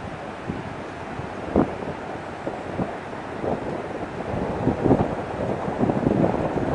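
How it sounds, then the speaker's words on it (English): Gusty wind buffets an outdoor homemade wind turbine, a continuous rushing roar with rumbling microphone buffeting that swells in stronger gusts toward the end, with no voices. "It's gusty. Wind speed probably in the 20s."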